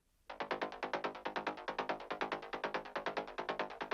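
A synthesized bass sound pulses in a fast, steady rhythm of repeated throbbing notes, starting abruptly and continuing evenly.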